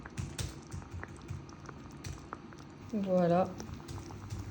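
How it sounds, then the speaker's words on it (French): Kefta-style meatballs simmering gently in sauce in a pot, giving a soft, steady bubbling close by, with a short spoken word partway through. "je vais laisser cuire doucement mes boulettes comme ça dans la sauce"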